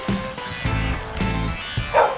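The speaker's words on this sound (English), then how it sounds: "dog" A dog gives several sharp barks in a quick, irregular series close by, with a faint trickle of water near the end.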